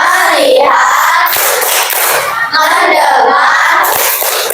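A school class claps along with the teacher in a rhythmic 'tepuk fokus' clapping chant, loud and close, with children's voices chanting together between bursts of claps.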